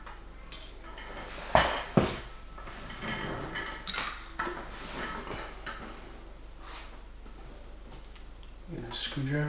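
A wedge tension wrench pulled from the keyway of a Schlage Primus lock, a few small metallic clicks and scrapes spread over several seconds, close, with muffled handling noise and a voice talking faintly in the background.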